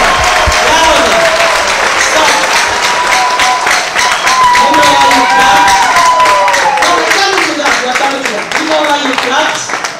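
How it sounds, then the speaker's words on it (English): A graduation audience at a Mbarara University medical faculty oath ceremony claps in loud, dense, continuous applause, while an amplified voice carries over the top throughout. "I want you to clap your hands till I tell you to stop."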